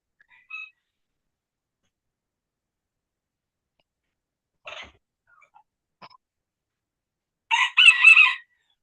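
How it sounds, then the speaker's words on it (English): A rooster crows once, fairly near and loud, near the end, after mostly silence broken by a few faint chirps and clicks. "I hear that, rooster."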